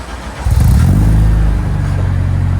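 A K24-swapped 2000 Honda Civic hatchback with headers revs up hard from idle, a loud, close, deep throaty engine note that jumps sharply and then holds a sustained raspy drone.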